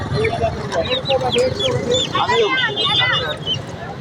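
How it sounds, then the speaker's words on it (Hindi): A crowd of colourful desi chicks cheeps constantly in high, rapid chirps, close and dense, while people talk over them. "कौन से चूजे ले रहे हो?"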